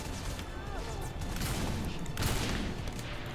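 Steady bursts of video game gunfire in Saints Row IV, a dense fusillade of shots and blasts with a voice speaking over the action.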